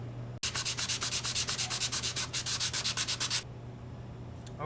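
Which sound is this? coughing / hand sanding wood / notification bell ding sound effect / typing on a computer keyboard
hand sanding wood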